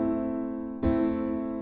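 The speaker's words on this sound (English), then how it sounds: "I have this like Ableton piano, sounds like this" A software piano in Ableton sounds a sustained chord, then a second chord is struck midway and rings out, clean and close with no other sound.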